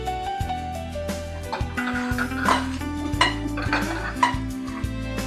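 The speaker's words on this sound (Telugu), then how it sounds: "ఎండుమిరకాయలు వేగుతున్నాయండి" Dry red chillies roasting in a pan with a little oil, stirred with repeated clattering and scraping against the metal while steady tonal background music plays underneath.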